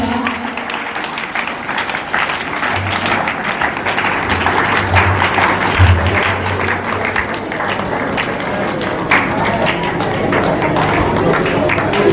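An audience claps and applauds steadily to welcome a teacher onto the stage at a school Teachers' Day event, a dense, loud, sustained patter that holds throughout with no break.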